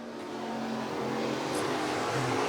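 IMCA stock cars and super stocks at USA Raceway roar through a dirt track main event, their engines droning loudly and steadily, with the pitch shifting as the cars duke it out for the win.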